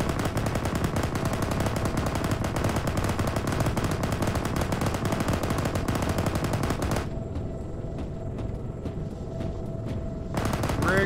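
A vehicle-mounted machine gun fires in a Halo video game in long rapid continuous bursts, loud and close, with a brief pause before the firing resumes.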